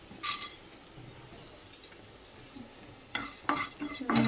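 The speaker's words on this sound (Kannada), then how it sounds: "ಚೆನ್ನಾಗಿ ರೋಸ್ಟ್ ಮಾಡ್ಕೋಬೇಕು." Cinnamon, cloves and pepper are roasted in a pan, a utensil scraping and clinking against the metal in a few sharp bursts with a faint dry sizzle between them.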